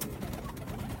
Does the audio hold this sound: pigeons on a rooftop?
yes